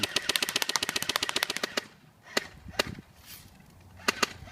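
Rapid burst of airsoft rifle fire, about twenty sharp close shots in a steady automatic rhythm, followed after a pause by a few scattered single shots.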